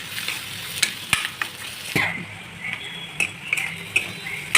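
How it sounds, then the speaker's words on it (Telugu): Ginger paste fries and sizzles in a pan for an egg masala while a utensil stirs and scrapes, giving repeated clinks and scrapes at close range over a steady sizzle. "అల్లం కూడా మంచిగా వేగింది"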